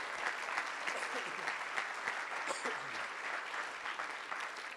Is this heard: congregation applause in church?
yes